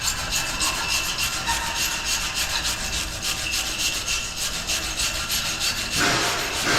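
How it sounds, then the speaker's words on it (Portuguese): A steel wire brush scrubs back and forth over a fresh weld on a steel trailer peanut cage, a steady, close, raspy scratching that runs without pause. "Vou pegar uma escovinha de aço ali, que eu vou passar uma escovinha de aço ali"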